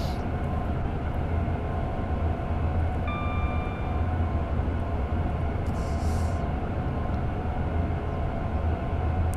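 A Class 350 electric train runs on the Euston to Milton Keynes line in Train Sim World 5, giving a steady broadband rumble and rail roar throughout, with a brief high tone midway and a faint hiss later.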